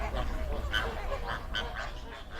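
Flock of flamingos at a shallow saline Kenyan lake, such as Lake Nakuru, honking and gabbling in a continuous goose-like chorus, with repeated nasal calls rising over a steady low background.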